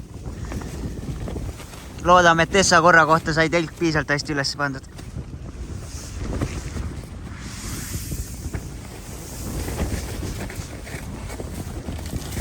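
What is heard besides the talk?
strong wind at a winter tent camp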